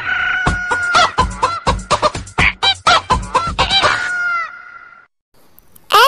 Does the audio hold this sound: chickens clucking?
yes